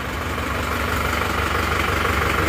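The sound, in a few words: Toyota Panther diesel engine idling while still cold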